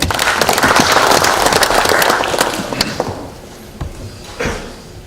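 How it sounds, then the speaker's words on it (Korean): Loud applause fills a parliamentary party caucus meeting, dense clapping for a few seconds that then thins into scattered claps and dies away. "큰 박수 부탁드립니다"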